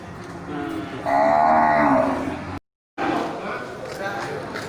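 A young female Aceh calf at a cattle market gives one drawn-out moo lasting about a second, close and fairly loud, with a brief cut in the sound shortly after.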